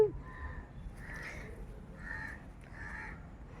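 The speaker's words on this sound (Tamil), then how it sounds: "அதான் காக்கா கத்துது" A crow caws four times in a steady series, the calls fairly loud and distinct over a faint low background rumble, in the evening at a village home in Tamil Nadu.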